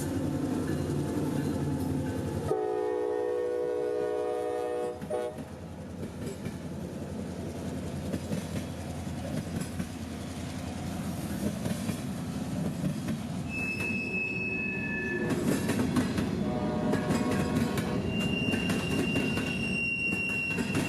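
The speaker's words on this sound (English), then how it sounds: "L779 would pass the Diamond a few minutes later" CSX freight train L779 rolling past a railroad diamond crossing, a continuous rumble of railcars with wheel squeal and clickety-clack of wheels over the joints, steady and moderately near.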